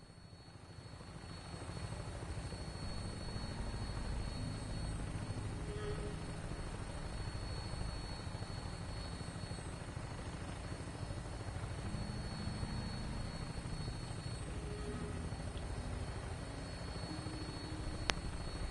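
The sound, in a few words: aircraft on final approach, from video game Fallout 4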